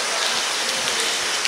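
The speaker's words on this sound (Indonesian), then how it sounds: "Tapi ya, sayang masih hujan." Steady, dense rain falling at Pamukkale in Turkey, a loud continuous hiss of drops with no pauses and no voices.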